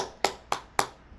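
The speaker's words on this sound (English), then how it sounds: "Let's get a round of applause for that." Three sharp hand claps ring out evenly spaced and close, a brief, quiet applause from a single person with no voices.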